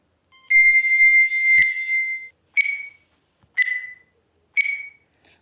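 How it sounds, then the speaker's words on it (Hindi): A quiz countdown timer sounds alone: first a long, steady electronic tone lasting nearly two seconds, then three short, evenly spaced beeps about a second apart, clear and close. "टाइमर मैं आप लोग के लिए लगा दे रहा हूँ।"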